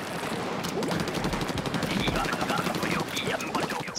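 Rapid bursts of Splattershot Jr. fire from Splatoon 2 run continuously, dense and crackling throughout the clip, with game effects and a faint voice underneath.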